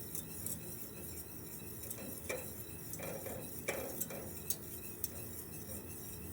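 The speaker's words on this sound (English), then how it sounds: "I'm going to continue to whisk." Beurre blanc butter sauce being whisked in a pan, soft repeated metallic taps and clinks of the whisk against the metal over a low steady background, faint and close.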